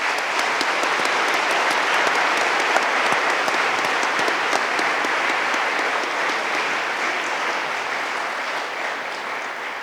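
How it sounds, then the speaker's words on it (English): Long, full applause from a large audience at a December undergraduate commencement ceremony, dense and loud clapping that holds steady for nearly ten seconds before slowly tapering. "Would you join me in a round of applause for all these folks that helped make this happen today?"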